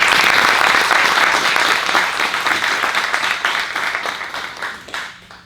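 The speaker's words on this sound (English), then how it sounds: "Please join me in giving Representative Giddings another round of applause." A crowd at an exhibit kick-off ceremony applauds a state representative, with loud, dense clapping from many people that gradually thins and fades toward the end.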